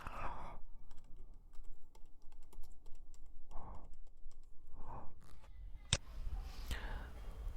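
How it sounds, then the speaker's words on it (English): Someone types an organization name on a computer keyboard, producing rapid close key clicks between short bursts of soft speech-like sound and a sharp click near the end. "just type the organization name, which is Open AI Academy."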